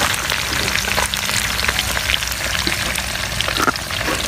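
Food crackles and sizzles steadily in hot oil while battered snacks fry, a dense continuous hiss with scattered pops close by, no voices over it.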